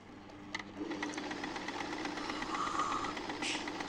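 Butterfly electronic sewing machine running a large decorative stitch, a steady fast mechanical whirr with light ticking, moderately close and alone.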